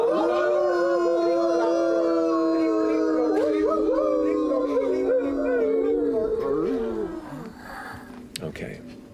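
Several people together imitate wolf howls during a tabletop role-playing game session. Their long, sustained, wavering howls overlap for about seven seconds and then fade, with scattered sniffs and noises afterward.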